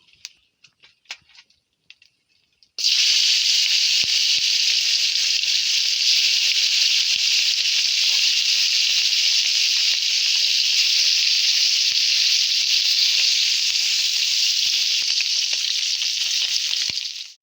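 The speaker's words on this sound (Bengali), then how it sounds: "এগুলো সব ভেজে নেবো" Koi fish rubbed with salt and turmeric dropped into hot oil in a wok, bursting into a loud, dense, continuous sizzle that holds steady close by after a few soft clicks.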